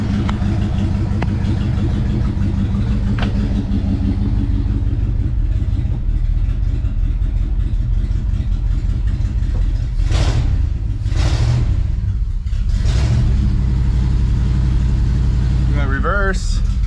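A 1974 International pickup truck that sat unused for years runs steadily with its engine droning loud and close, swelling with several revs toward the end.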